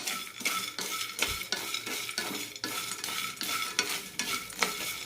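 Peanuts dry-roasting in a pan for idli podi, stirred with a utensil in steady repeated scrapes and rattles, close and fairly loud, with no voices.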